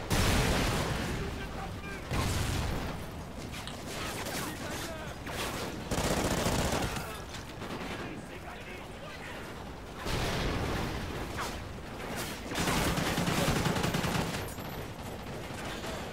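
Machine gun fire in the shooter game Call of Duty: Ghosts, with long bursts of rapid gunfire and explosive rumbles in repeated waves, with someone talking over them at times.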